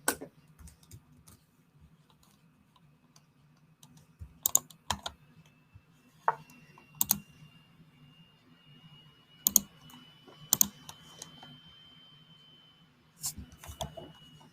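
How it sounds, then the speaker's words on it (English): A faulty computer keyboard typed on during a chess stream, giving sparse, irregular bursts of soft clicks over a faint steady hum, heard close but quiet. "keyboard is playing up a bit."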